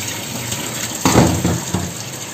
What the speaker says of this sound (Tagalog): may instant hot water kami dito